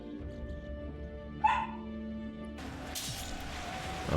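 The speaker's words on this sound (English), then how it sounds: "my puppy's barking a little bit" A single high yip from a puppy cuts through a steady background hum and music, fairly close.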